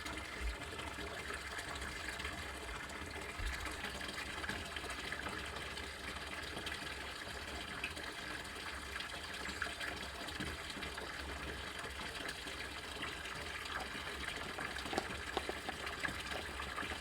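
Hot water from a kettle pours steadily into a container of water for an ice bath, a faint, continuous gushing splash with no talk over it.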